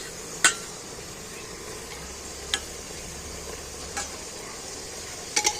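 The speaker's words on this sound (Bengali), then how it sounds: "ধুয়ে রাখা জল ঝাড়া মাংসটা আমি কুকারে তুলে দিচ্ছি মশলাটার সাথে" Mutton with spices fries in a pressure cooker under a low, steady sizzle, punctuated by a few sharp metallic clinks of the stirring spoon against the pot.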